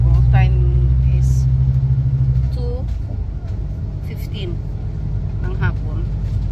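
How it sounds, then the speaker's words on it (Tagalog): Interior of a moving bus, with a steady low engine rumble and road drone running throughout, loudest in the first half, while several people talk nearby and a voice sings over the vehicle noise. "nasa bus na ako"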